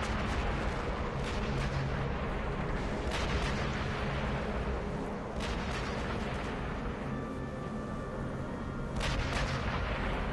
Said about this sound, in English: there is the big flak guns that provide noise cover